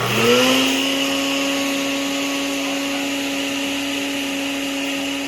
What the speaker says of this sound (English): We're going to put the lid on and then mix it up in that.